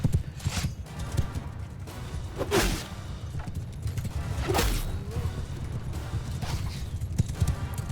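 Horse hooves clip-clop in Mount & Blade II: Bannerlord during a battle, a steady loping patter over a busy low rumble of combat noise, with a few sharp whooshes and crashes breaking through.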